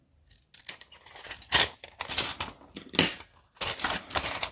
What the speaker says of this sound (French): je vais tout simplement le découper.